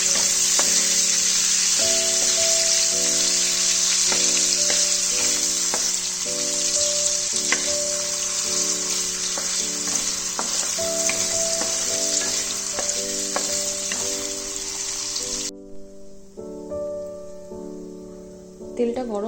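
Paneer lightly sautéed in hot oil in a pan, a continuous loud sizzle with scraping stirs, and a steady tone repeating beneath it before the sizzle cuts out near the end.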